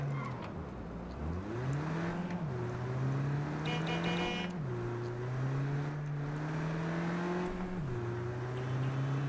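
A borrowed Maelstrom gang car driven in a video game, its engine droning steadily and rising in pitch through several gear shifts as it accelerates, with a brief clatter partway through.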